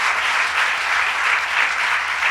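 Sustained, even applause from an audience for Deborah Glick, a thick continuous roar of many hands clapping with no voices on top.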